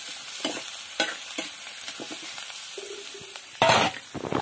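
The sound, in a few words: stirring and browning food frying in oil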